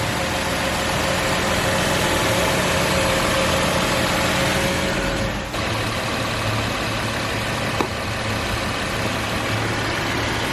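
An Infiniti QX70 engine idles after a radiator repair that followed an overheating problem. It gives a steady, even running hum heard up close, with a slight shift midway and no talking.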